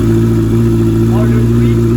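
A Honda CB 650 R fitted with an Arrow Pro Race exhaust line rumbles at a steady, loud, close idle, a deep continuous engine drone with no revs.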